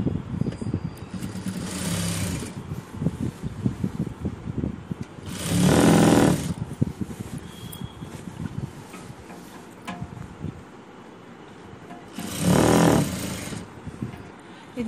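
An electric sewing machine runs a quarter-inch seam along a box pleat uniform skirt in three short bursts of steady whirring stitches, each a second or so long, close by, with a voice talking between the bursts.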